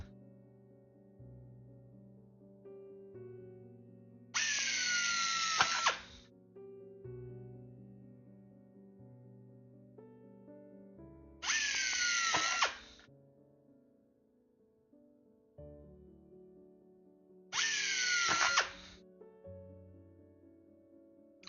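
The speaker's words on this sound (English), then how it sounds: "a lot of people who are hand drilling just literally just freehand it like we're doing right now" Freehand hand drilling into airplane forward fuselage skin panels: three separate loud bursts of whining drill noise, each lasting a second or two, with quieter gaps of low background hum between them.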